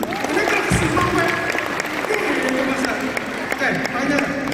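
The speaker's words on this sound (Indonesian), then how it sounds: "Tepuk tangan dong." Loud audience applause and crowd noise fill a large national youth conference hall, steady clapping throughout with voices mixed in.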